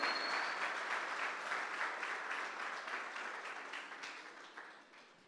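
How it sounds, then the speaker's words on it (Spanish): A church congregation applauds during an Easter resurrection sermon, dense sustained clapping that gradually fades, heard at a moderate distance in a reverberant hall. "no es motivo para darle un aplauso al Señor"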